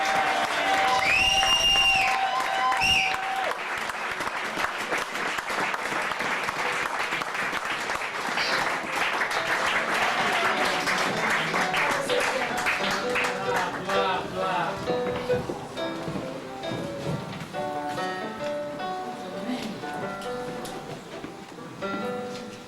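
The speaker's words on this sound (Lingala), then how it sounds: "Si vous pouvez acclamer très très très fort pour elle." An audience at a religious gathering applauds and cheers loudly and continuously for a woman giving a testimony, with voices and music mixed in with the clapping.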